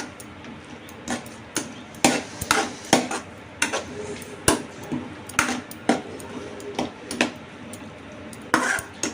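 Brinjal and tomato curry being stirred in a pan, a utensil clacking and scraping against the metal in repeated irregular knocks, fairly close and alone.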